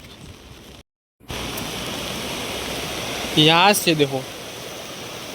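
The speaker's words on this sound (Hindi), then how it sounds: "बिकॉज सारी रिवर तो भर के आ रही है ना पानी" A river swollen after days of rain rushes past as a steady, loud broadband roar, continuous apart from a brief gap, with a short spoken voice briefly over the water.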